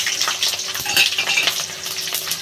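Chilli and garlic frying in a pan for a Sunday fish curry, crackling and sizzling loudly and continuously close by, with faint stirring scrapes and no talk.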